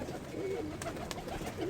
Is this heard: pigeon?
yes